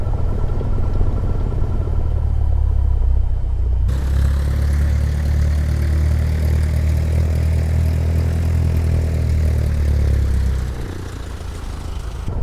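Steady drone of a light aircraft engine running in Microsoft Flight Simulator, a constant low hum that shifts in tone partway through and drops in level near the end, with no talking.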